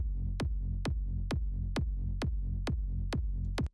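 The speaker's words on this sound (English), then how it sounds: "Really, really, really heavy kick." A very heavy kick drum with its side chaining removed thumps eight times at an even, steady pace, deep and booming over a constant low drone, loud and up close.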